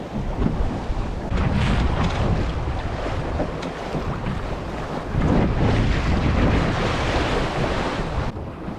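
Choppy, lumpy sea slaps against a sailboat under a reefed sail while strong wind roars steadily across the microphone, a loud continuous wash with surges but no talk.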